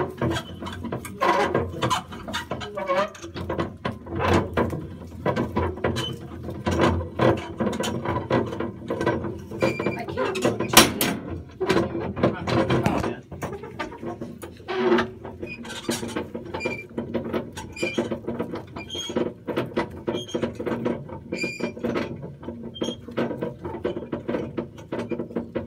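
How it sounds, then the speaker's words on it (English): A trailer jack is cranked down onto a horse trailer hitch, giving a long run of close, repetitive ratcheting clicks and gear grinding with small irregular pauses. "So I'm going to keep cranking it down now"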